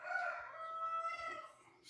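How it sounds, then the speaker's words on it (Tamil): A rooster gives one long crow nearby, loud at first and then fading, heard alone in an otherwise quiet room. "சேவல் கத்திக்கிட்டே இருக்குது,"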